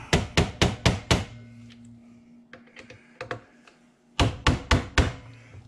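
A tool lightly taps the screws of a rifle scope mount tight during a DIY installation, making a close, sharp run of rapid knocks, then a quieter pause with scattered ticks, then another quick burst of knocks.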